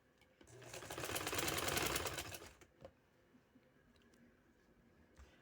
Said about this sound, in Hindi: उस पर ऊपर रख के किनारे पे मैंने सिलाई दे दी।